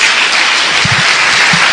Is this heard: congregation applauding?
yes